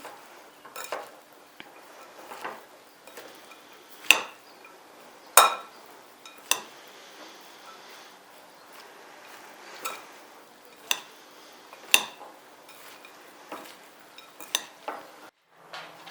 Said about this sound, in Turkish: Ve salatamızı karıştırıyorum